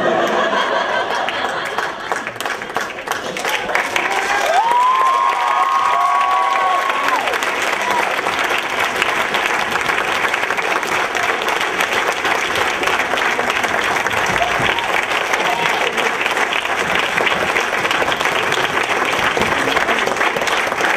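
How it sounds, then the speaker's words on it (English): Audience applause at the close of an evening stage show, a loud, dense and sustained wash of clapping with some laughter and cheering mixed in, holding steady for about twenty seconds while a brief tone sounds early on. "Tonight, please once again give everyone a great round of applause."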